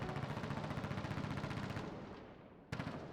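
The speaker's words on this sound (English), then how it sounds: "Then all of a sudden, I heard gunshots coming from outside." Rapid automatic gunfire rattles outside a building in a zombie video game, a sustained burst of fast repeating shots that tapers slightly, then one sharp shot cracks near the end.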